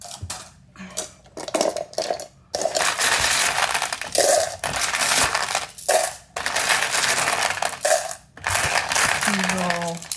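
Small rocks of mixed sizes are tipped and dropped into a rock tumbler barrel, making repeated bursts of hard, close clattering with brief gaps between handfuls.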